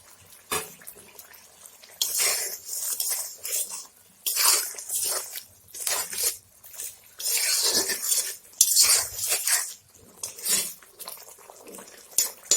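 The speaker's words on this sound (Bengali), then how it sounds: "এখন আমি কই মাছগুলো দিয়ে দিব" Fried koi fish go into a pan of boiling, bubbling spice gravy, giving close, hissing bursts of sizzle and bubbling that come in uneven waves with short pauses, with no talk.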